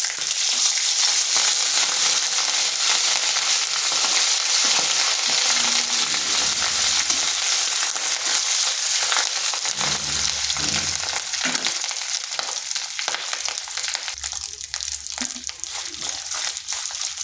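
Ginger and green chili paste sizzling steadily in a hot pan over low heat, a loud continuous hiss with occasional stirring scrapes, no talking.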